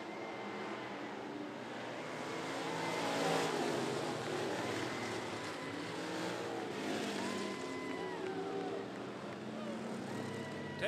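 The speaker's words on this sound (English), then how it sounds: "It's going to be the 14 of Austin Atkins taking the white flag, and that's the one of David Price." Street stock cars race around 411 Motor Speedway, a dense roar of engines rising and falling as the pack passes at a distance, with a race announcer talking over it.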